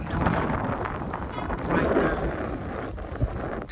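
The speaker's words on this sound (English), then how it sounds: "It's a windy girl. My hat is about to blow out." Gusty wind buffets and roars across an outdoor area of Pedernales State Park in uneven surges, with soft rustling underneath.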